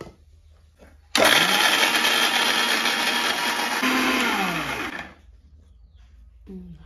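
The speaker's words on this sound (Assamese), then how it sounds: "মই সৰু সৰুকৈ কাটি ধুনীয়াকৈ এতিয়া মিক্সাৰটোত ভৰাই লৈছোঁ। পানী দি দিছোঁ, মানে এতিয়া খুন্দিমেই" A kitchen mixer grinder whirs loudly for about four seconds as it grinds chopped coconut with water, then cuts out, leaving near-silence before a faint sound at the end.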